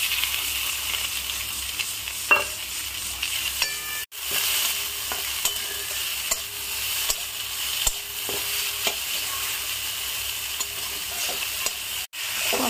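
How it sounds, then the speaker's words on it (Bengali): Fish with salt, garam masala and scooped-out pointed gourd seeds sizzles and fries steadily in a pan while being stirred, with occasional scrapes and clinks of the spoon and no talking. "আর মাছটা দিয়ে কষে নেবো।"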